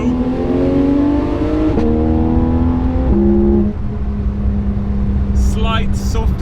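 A Porsche 996 driven hard around a mountain-pass corner, its engine loud and close, revving through rising pitch steps, then easing to a steady drone, with faint squeal-like tones near the end.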